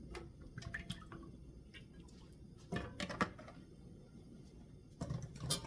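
Canola oil poured into a pot on the stove to start cooking cassava leaves (isombe), heard as faint, brief liquid bursts of pouring and dripping against a quiet kitchen background.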